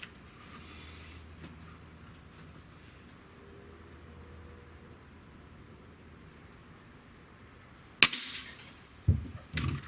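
A Sig Sauer ASP20 break-barrel air rifle fires one sharp, close crack after a quiet stretch, followed a second later by a couple of clunks from handling the gun.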